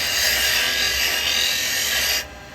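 Carbide chisel cutting a pine workpiece on a spinning wood lathe: a steady, close, loud rasping scrape that runs unbroken for about two seconds and then stops sharply, leaving a quieter background hum.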